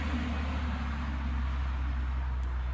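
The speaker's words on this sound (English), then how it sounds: "my neighbor is running the plow through his" A neighbor's tractor pulling a plow through a field, heard as a steady low engine rumble with a constant broadband roar, moderately distant and unchanging throughout.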